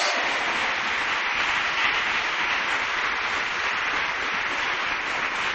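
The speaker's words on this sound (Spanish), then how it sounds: "Aleluya, no dejes de aplaudir, no dejes de aplaudir, no dejes de aplaudir." Dense, steady applause from a church congregation, many hands clapping together in a continuous even roar with no voices rising above it.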